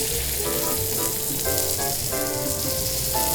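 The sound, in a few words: searing Nanatani duck breast on a teppan griddle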